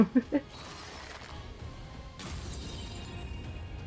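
Tiamat shatters in the video game Stranger of Paradise: a few sharp hits give way to a low crumbling, breaking rumble that swells into a sustained crash, fairly quiet in the mix.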